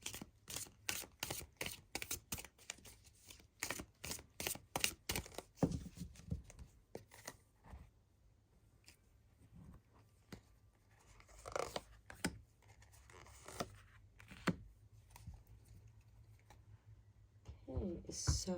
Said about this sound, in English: I'm going to shuffle the deck and get a couple more cards for you.